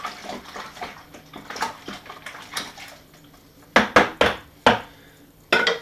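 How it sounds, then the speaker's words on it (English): A spoon stirs beer-kit malt and sugar into water in a brewing vessel, making soft sloshing and scraping at first, then several sharp clanks of the spoon against the container, near and clear with no talk. "Now we just stir it with the spoon, and that dissolves the sugar and liquefies the malt."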